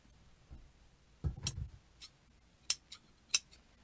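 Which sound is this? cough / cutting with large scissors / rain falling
cutting with large scissors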